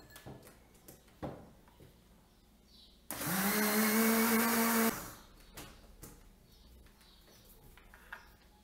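An electric mixer beats two eggs, a cup of milk and a cup and a half of sugar for chocolate cake batter, a loud steady whirring burst of about two seconds amid quiet kitchen clatter.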